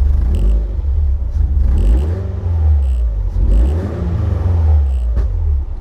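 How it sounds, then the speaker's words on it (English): A Caterham Seven 270S engine revs repeatedly close by, rising and falling in several throttle blips over a steady deep idle rumble, with no talking. "Give it a few revs."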